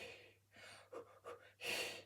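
A person quietly imitates the short, quick panting breaths used during labour contractions, a few soft puffs ending in a stronger exhale.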